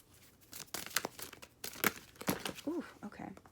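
Tarot cards being shuffled and drawn close by, with quick papery slaps, crinkles and rustles in short bursts, and faint bits of voice between the card sounds.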